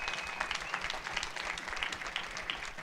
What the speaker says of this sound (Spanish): Del otro fuerte aplauso al Rey de la Gloria.